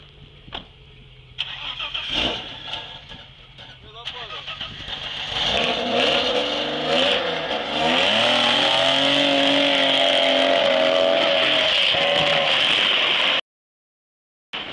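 A car engine idles, then revs as the vehicle reverses and drives off, the pitch rising and falling through the gears. People talk over the engine, which stops abruptly near the end.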